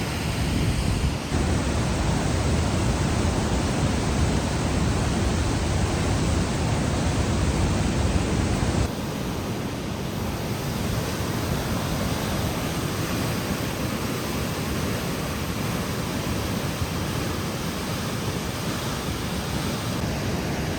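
Water rushes steadily through rocky Icicle Gorge, a loud continuous broadband roar close to the listener, dropping slightly in level partway through.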